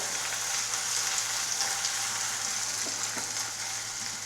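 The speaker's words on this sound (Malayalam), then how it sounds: "ചെറുതായി നീളത്തിൽ അരിഞ്ഞു വെച്ച മീഡിയം സൈസ് സവാള നമുക്ക് ചൂടായ വെളിച്ചെണ്ണയിലേക്ക് ഇട്ട് കൊടുക്കാം" Sliced medium onions sizzle steadily in hot coconut oil while being stirred, a dense, even crackle that holds loud and close throughout with no voices.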